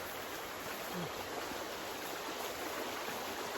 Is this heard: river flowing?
yes